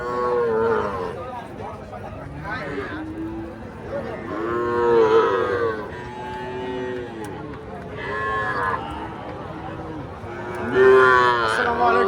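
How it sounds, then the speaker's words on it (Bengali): Native calves and cattle low repeatedly at a busy cattle market, the drawn-out moos rising and falling close by amid the crowd's chatter. "তিনটে বাছুর দেশি।"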